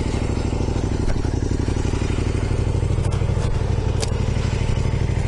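A motorcycle engine runs steadily up close, a continuous loud rumble with slight clattering and a few sharp scraping or clicking noises over the top.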